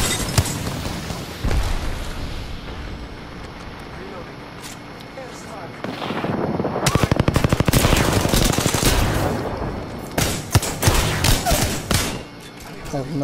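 Automatic weapon fire in Apex Legends, rapid sustained bursts crackling loud and close, with a voice talking over parts of the clip and scattered shots near the end.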